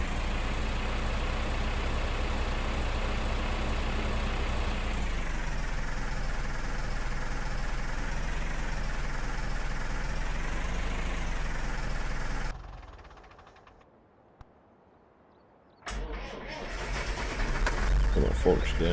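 Tractor engine from Farming Simulator 15, parked at a cow farm, drones steadily and loud for about twelve seconds, drops to near silence briefly, then rumbles back up; engine noise runs throughout without clear talk.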